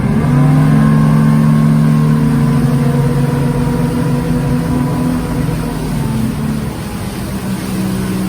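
Boat engine on a 2021 Pursuit Sport 328 center console revving up to plane: steady drone with a strong low hum and a rising pitch partway through, loud and continuous throughout, like a motor pushing hard under load.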